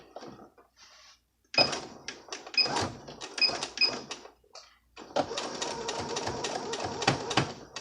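Sewing machine back stitching a fabric waistband at a 5/8 inch seam allowance, in short close bursts of stitching that start and stop, ending in a longer steady run.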